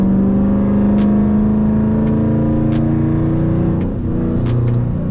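A catless Dodge Challenger pulls hard with the windows up, a loud, steady, close engine drone rising in pitch as it accelerates on the highway, with faint ticks over the exhaust and no voices.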